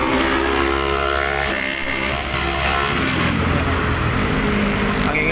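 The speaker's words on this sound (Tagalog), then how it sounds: "Ang ingay ng motor." On a walk through the Manila Bay reclamation area, a motorcycle engine roars loudly and close as it passes by, a harsh, steady drone that dominates the scene.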